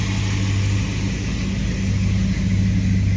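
A 1929 Chrysler Coupe fitted with a 360 V8 engine drives along, giving a steady, loud low rumble that holds constant without revving changes and with no talking.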